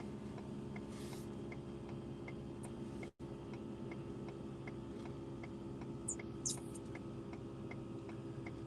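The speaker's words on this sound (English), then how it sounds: "That sound you're hearing is my compressor that I have buried under the back seat." An air compressor buried under a car's back seat runs with a steady, close mechanical rhythm of regular ticks over a low engine rumble, broken by a brief dropout, with no talking.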